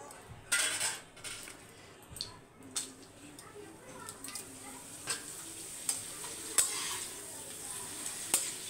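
Appalam (papad) frying in hot oil, giving a low steady sizzle with scattered light clicks and scrapes of a utensil against the pan, faint and close.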